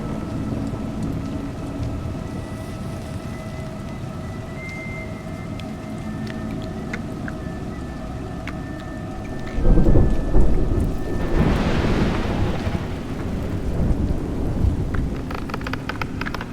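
Rain and thunder in the video game A Juggler's Tale: a steady, even hiss of rainfall throughout, broken by a loud, rolling thunder rumble that swells partway through and then slowly fades under the rain.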